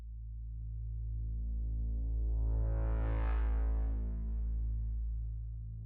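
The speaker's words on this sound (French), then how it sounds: "J'ai commencé avec une grosse basse. Ces trois ondes-là. Et ce que j'ai fait, c'est que j'ai modulé le filtre, la résonance et la reverb." A deep synth bass built from three waveforms, its filter and resonance swept so the tone brightens to a peak mid-way and darkens again, washed in reverb, sustained alone throughout.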